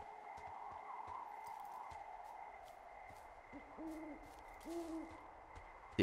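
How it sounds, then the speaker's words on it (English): Owls hoot twice with low, soft double calls in the Firewatch video game, heard moderately close over a steady wind-like ambient hum and faint scattered clicks. "The owls are hooting as well."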